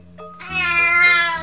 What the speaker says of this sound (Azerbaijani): O mətbəxə qaçdı və qəmgin-qəmgin miyoldadı